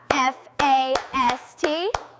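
A few crisp hand claps land between sung, drawn-out voice phrases from an animated children's show, each clap short and close.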